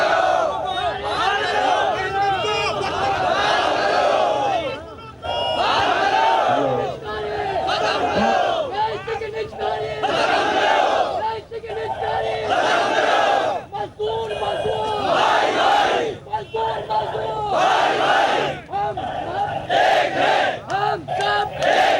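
Large crowd of protesting workers in Pakistan chanting slogans in loud, rhythmic bursts with short pauses between shouted lines, the massed voices echoing and overlapping throughout.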